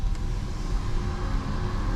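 A Peugeot e-208 Allure electric car, 2021 model, giving off its mandatory low-speed driving sound, a steady low hum and rumble heard from inside the cabin at night, continuous and fairly quiet, with no talking.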